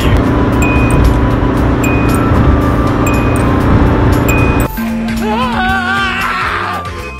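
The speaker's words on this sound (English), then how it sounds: "once you reach 100 kilometers, you're gonna actually hear those beeping sound, like the ones that Takumi has on the 86" A Toyota AE86's over-speed warning chime rings steadily, a clear repeating tone over loud road and engine noise inside the moving car, before the cabin quiets and other tonal sounds take over.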